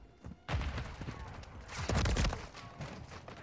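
Gunfire in a shooter video game, bursts of rapid shots with a heavy surge midway, close and punchy amid game noise.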